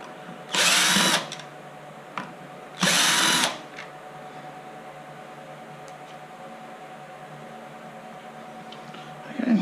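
A power drill drives screws into the gearbox frame of an MGI Zip Navigator golf trolley, giving two loud whirring bursts of about half a second and a second each, close by, followed by a quiet room.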